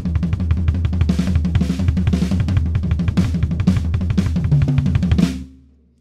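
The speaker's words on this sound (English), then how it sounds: "This is the DrumCode hand-foot rolls." Drum kit playing hand-foot rolls, fast single strokes alternating between hands on drums and the bass drum, a dense driving pattern with cymbal crashes accenting the beat before ringing out at the end.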